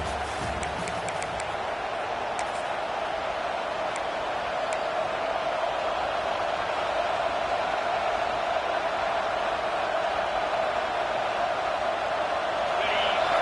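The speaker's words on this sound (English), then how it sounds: "This crowd, full throat, spreading the eardrums and letting them know it's going to be a long day" Crowd at a Howard University HBCU football game, a broad, steady roar of voices filling the stadium throughout, loud and sustained with scattered faint ticks near the start.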